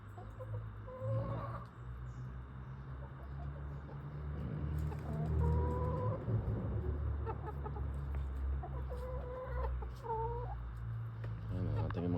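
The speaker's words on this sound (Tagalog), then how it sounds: "Ating mga manok, kaibigan." Backyard chickens, both hens and roosters, clucking and calling steadily over a low steady hum. Some faint voices drift in between the calls.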